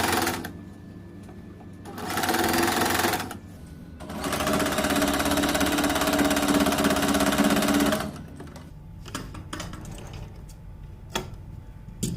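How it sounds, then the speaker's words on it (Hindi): Close, steady whir of a sewing machine stitching a fabric strip onto a newborn baby cap, in two running bursts, the second one longer, with quiet pauses and small clicks between them. "इस तरह इसको पट्टी को सीधे करते जाना है और सिलाई लगाते जाना है"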